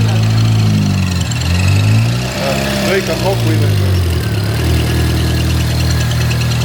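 A car engine runs with a low, uneven throb that rises and falls in a workshop while someone talks over it in Estonian.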